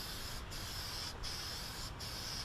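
An aerosol can sprays toner lacquer in a continuous close hiss, briefly interrupted three times as the nozzle is released and pressed again.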